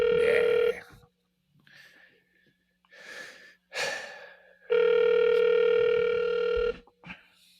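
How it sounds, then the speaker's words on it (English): A phone rings through a speakerphone call, with loud sustained ring tones repeating in bursts, the longest lasting about two seconds, separated by short gaps with breathing and faint room noise. "Oh, it's ringing."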